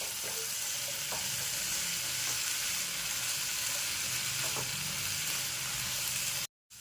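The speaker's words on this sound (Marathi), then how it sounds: "थोडे हाय फ्लेमवरच परतून घ्यायचे आहे मीडियम गॅस ठेवायचं नाही एक दोन ते तीन मिनटं चांगल्या परतून घ्यायचं आहे तेलामध्ये" Mixed vegetables for veg kolhapuri sauté in oil over a high flame, with a loud, steady sizzle and occasional stirring taps before a sudden cut to silence at the end.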